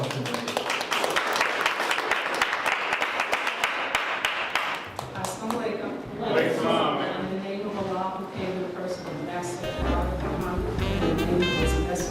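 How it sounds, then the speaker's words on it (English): An audience claps for a speaker at a talk on healthy eating: several seconds of dense, steady applause, then the clapping fades under voices and music-like sounds. "So please receive Sister Carol a round of applause"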